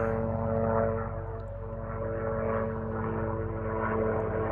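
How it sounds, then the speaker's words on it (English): A California Highway Patrol helicopter flies overhead, a loud continuous droning engine roar with steady rotor hum that swells and fades slightly, with no voices. "Oh, it looks like a CHP helicopter."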